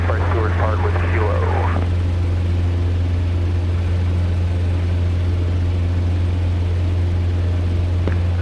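A Cessna 150's engine hums steadily at Renton Field, with a low constant drone under a brief burst of radio-like talk at the start.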